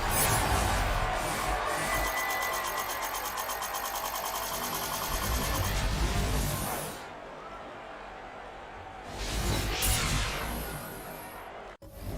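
A basketball crowd cheering in NBA 2K21, a loud, dense wash of arena roar and whistles for several seconds that fades out, then swells again briefly near the end.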